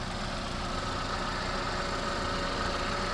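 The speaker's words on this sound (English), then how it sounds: "here's your motor, just a little Ecotech" A Chevy Captiva with its small Ecotec engine idles steadily under an open hood, a constant close, even drone with no talk over it.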